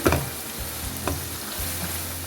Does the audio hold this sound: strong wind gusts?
no